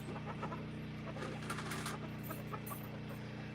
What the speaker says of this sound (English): Chickens are eating it. Look at them out there.